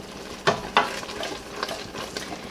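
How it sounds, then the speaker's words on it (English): A spoon stirs blackberry hot pepper jam as it boils in a pot, giving a steady bubbling sizzle with two sharper scrapes or clacks early on, close and moderately loud with no talking. "And it's still boiling as I'm stirring, so we're good."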